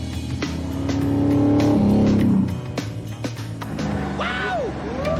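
A purpose-built race car engine revving hard, swelling to a loud sustained roar that then drops away into rougher, uneven engine noise with clicks and clatter, partly under talk.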